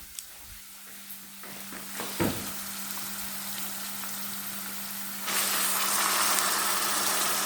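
Kima greens tossed into a pan of frying onions: steady sizzling that jumps louder and hissier partway through as the greens hit the hot oil, with small clatters, close up and without speech.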